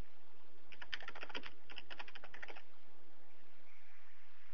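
Rapid bursts of keystrokes on a computer keyboard, two quick runs of close, crisp clicks separated by a brief pause, then quiet room tone.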